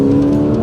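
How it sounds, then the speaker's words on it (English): A Porsche 911 Carrera S engine idles with its sports exhaust switched on, a deep, steady exhaust drone and a strong low hum, close and continuous, with no distinct rev climb. "It actually even sounds differently when I push this exhaust on button."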